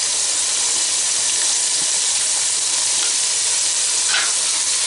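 Ginger paste and crushed garlic fry in a pan with tomatoes for a mutton curry, giving a steady, loud, close sizzle with constant hissing and faint spattering pops throughout.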